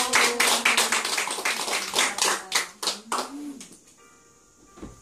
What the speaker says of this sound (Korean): 박수 한번 해보세요.